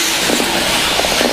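Electric 4WD short course RC trucks race at a championship track, a loud continuous whine of motors buzzing past close by in a brief, dense burst.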